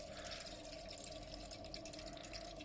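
A toilet cistern refilling quietly after a new stop cock was fitted: soft, steady trickling and bubbling water with faint drips, low and continuous throughout, no voices.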